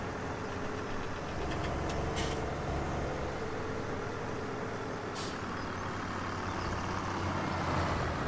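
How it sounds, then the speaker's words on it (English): Continuous engine drone with a low steady hum, punctuated by a couple of short sharp hisses, from a tractor in Farming Simulator 17. "I can hear the tractor, so he's not crashed into anything yet"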